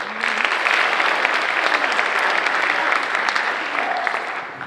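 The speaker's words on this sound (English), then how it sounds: "So these children deserve another round of applause." An audience at an awards ceremony gives dense, sustained applause that stays loud and even throughout, easing slightly at the end.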